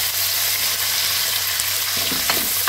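Onions and green chillies frying in oil in a pan for an okra and soya chunk tamarind stew: a loud, close, continuous sizzle with a faint clink or two near the end.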